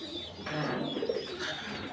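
Pigeons kept in an outdoor loft coo softly, a low throaty murmur rising in the middle amid faint background hiss and distant chatter.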